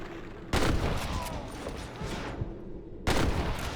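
Revolver shots in Red Dead Redemption: two loud, sharp cracks about two and a half seconds apart over a busy, noisy gunfight, with lighter pops and scattered impacts in between.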